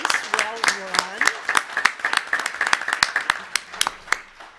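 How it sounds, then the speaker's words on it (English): Audience members at a school board meeting clap, a sparse, uneven run of distinct claps that thins out toward the end, while a voice talks briefly over the start. "I would ask that the audience join with me in giving all of them an applause for a race well run."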